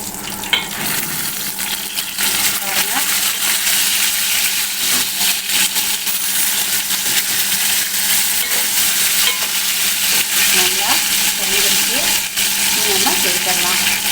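Chettinad-style fish fries in a pan, a loud, steady, close sizzle of hot oil that runs without pause, with faint scraping or stirring now and then.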